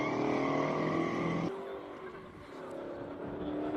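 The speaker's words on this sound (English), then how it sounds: "Another AC Cobra coming up." 427 AC Cobra in a classic-car hill climb, a loud, rumbling engine roar that drops sharply as the car lifts off or shifts, then builds again.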